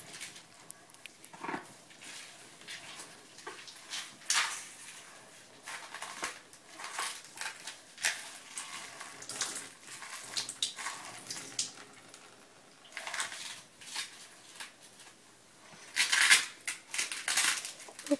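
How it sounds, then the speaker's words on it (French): Rinsed horse leg boots are wrung out by hand, giving a run of wet squelching, squeezing and twisting noises in uneven bursts, close and fairly loud, with no talk. "Je les essore complètement."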